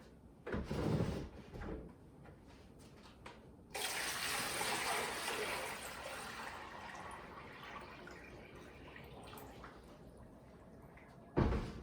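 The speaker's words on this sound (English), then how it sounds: "So you fill up your top bowl completely and the water starts running through the filter." Water pours from a tap into the top bowl of a water filter, a steady rushing splash lasting several seconds and slowly easing, with a few soft knocks and clunks of handling before and after.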